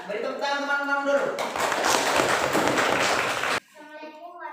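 Classmates in a school classroom clap for a group, a burst of dense, lively clapping between stretches of children's and adults' voices.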